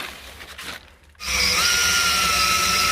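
A power drill bores through an old car license plate during a full-car paint job, whining loud and steady for about two seconds after a brief lower buzz and a short pause.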